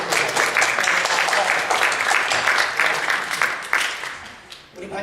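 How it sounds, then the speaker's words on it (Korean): Church congregation clapping together in praise after a new piano is dedicated, a dense, steady wash of applause that holds strong for several seconds before thinning near the end. "우리 박수로 하나님을 한번 찬양드립니다."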